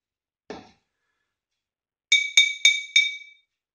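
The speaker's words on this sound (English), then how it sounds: "So what about the note we hear when we tap the bottle?" A glass bottle holding some water is tapped four times in quick succession, each tap a bright ringing clink with a clear pitched tone, close and isolated after one softer knock.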